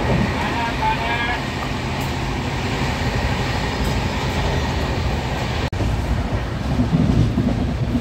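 The 12353 Howrah to Lalkuan weekly SF Express runs at about 130 km/h, heard from on board as a loud, steady rolling roar with one brief dropout near the end.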